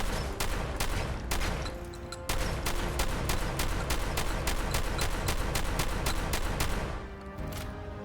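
Semi-automatic Varmint shotgun firing in Fallout 4, a quick series of sharp, loud shots in a rapid, fairly even rhythm with brief gaps, close up and dominant over a low background.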